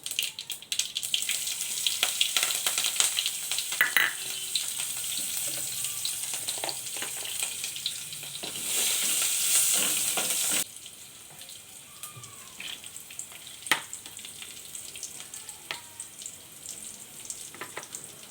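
Chopped onion and chilli frying in oil for poha give a steady, close hiss and crackle with occasional scrapes of a spoon, the sizzle swelling louder for a moment before settling to a lighter frizzle.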